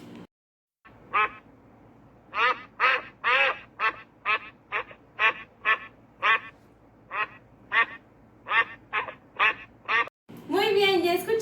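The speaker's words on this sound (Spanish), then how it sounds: "Y por último escucharemos al patito." Duck quacking in a steady series of about fifteen loud, nasal quacks, close and evenly spaced, with a short burst of speech at the very end.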